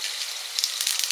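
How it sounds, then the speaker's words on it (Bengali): Dried red chilies sizzle in hot oil for tempering ghugni in the big pot used to boil the potatoes and peas. A loud, steady, close-up hiss crackles a little more toward the end, and no one talks. "ফোড়ন দেব শুকনো লঙ্কা"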